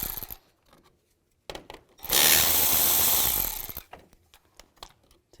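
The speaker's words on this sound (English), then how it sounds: "Take the emblem off. There's 2 nuts. Use a 10mm socket." Socket ratchet loosening the nuts on a 2007-13 Chevy Avalanche front bumper emblem, scattered clicks, then a loud, harsh burst of about two seconds, followed by more light clicking.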